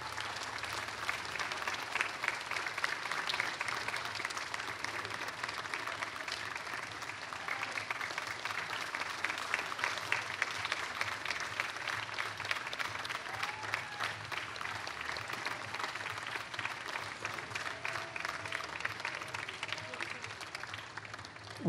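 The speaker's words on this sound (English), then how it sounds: "Let's give them a hand." Audience applauding service honorees at an outdoor fireworks event at the fountain: steady, sustained clapping from a large crowd, fairly distant and even throughout, with no break.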